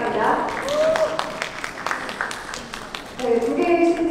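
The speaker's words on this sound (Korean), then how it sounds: "다시 한번 큰 박수 부탁드리겠습니다" An audience at a Lamborghini Urus SE launch event applauds in scattered, sharp claps under and around a speaking voice, with tonal sounds near the end.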